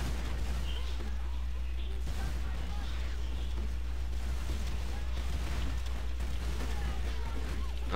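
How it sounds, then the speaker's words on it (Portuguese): Faint, rapid in-game explosions burst and rumble one after another during a lagging team match in a multiplayer video game, under a low steady hum. "Nossa, muita explosão"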